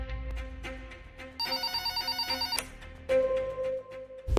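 A home telephone in a drama scene rings loudly in an electronic tone that repeats in pulsed bursts, then shifts to a steady tone, with no talking.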